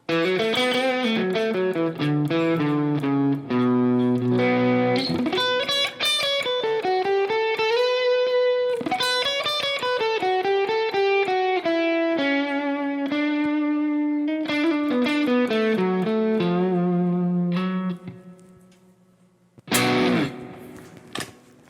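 Electric guitar, Harley Benton Fusion, middle pickup in split mode, with a bright, slightly thin tone playing a melodic run of sustained notes and chords, ringing out with some effects before a final strum.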